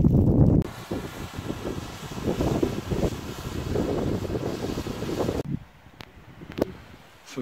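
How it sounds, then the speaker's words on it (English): Strong wind buffets the microphone on a sunny, exposed Scottish mountainside during a Munro hike, a loud continuous rumble and roar with gusts for about five seconds before it drops suddenly to near quiet with faint rustling. "It's sunny, but very windy."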